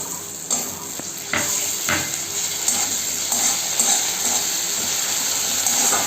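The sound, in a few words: chopped onion frying in oil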